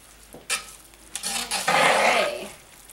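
Spoon stirring funeral potatoes in a Dutch oven: a few sharp scrapes against the pot, then a sustained, close, rustling stir of the mixture for about a second before it quiets.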